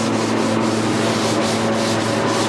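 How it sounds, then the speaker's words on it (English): Close, steady rasping of sandpaper rubbed back and forth over a vinyl sealer top coat on a wooden table in quick, even strokes. "lightly sanding that top coat that we did everywhere"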